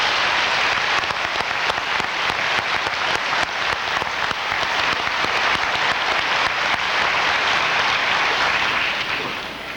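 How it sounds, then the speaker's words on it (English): Applause at a graduation ceremony, a large audience clapping in a dense continuous wash, loud and steady for nearly ten seconds before tapering slightly at the end. "Give them a round of applause,"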